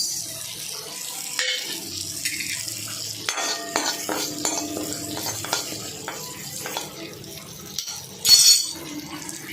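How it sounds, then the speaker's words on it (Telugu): Cumin and fenugreek seeds roast in a heated pan, with close stirring scrapes, light rattles and faint sizzling, ending in a louder clatter of utensil against the pan. "ఇప్పుడు జీలకర్ర మెంతులు వేయించుకుందాం"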